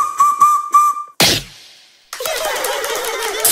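Bright toy-like whistle from a children's alphabet egg cartoon: three short pitched toots, a sharp burst, a pause, then a long breathy hiss-whistle, loud and alone with no speech.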